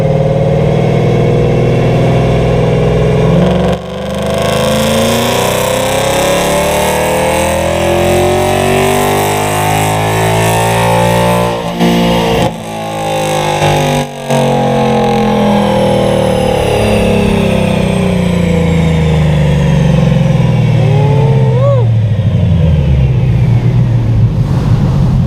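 Car engine on a chassis dyno during a baseline power pull, a loud sustained roar that climbs steadily in pitch through the revs, with brief dips like gear shifts, then winds down near the end.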